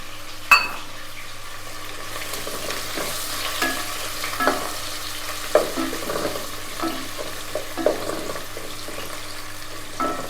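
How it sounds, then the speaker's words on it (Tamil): About 150 g of chopped onion fries with cinnamon and cloves for veg kuska, a low, quiet sizzle under scattered spatula scrapes and stirring knocks that come every second or two. "அந்த ஆனியன் வந்து நல்லா ஃபுல்லாக பொரியட்டும்"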